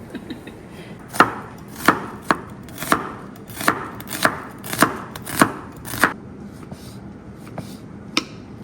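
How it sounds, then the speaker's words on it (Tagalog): A knife chops salad ingredients for a pork belly salad on a board, about a dozen crisp, evenly spaced thuds that taper off toward the end, close and clear with no speech. "Maghiwa na ta sa atong lamas"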